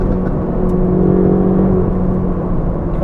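Ferrari 488 GTB engine pulling hard under acceleration from inside the cabin, a loud, steady mid-range drone with rising harmonic tones, continuous for the whole stretch with no talk.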